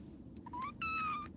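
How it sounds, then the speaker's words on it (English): A house cat gives a short, close meow, a small chirp followed by a longer drawn-out cry, heard indoors against a quiet background hum. "Yes, kitty cat, don't rub my stuff,"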